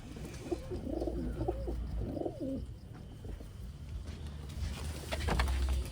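Malwai breed pigeons coo in low, rolling phrases close by, repeated a few times over a steady background hiss and faint outdoor noise.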